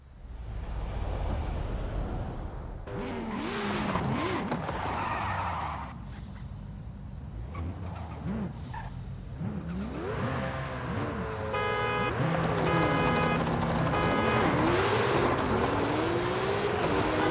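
A Toyota Supra races and drifts in Forza Horizon 5, its engine rising and falling through revs as the car shifts gears, with tire squeal and rushing motion sounds in the game.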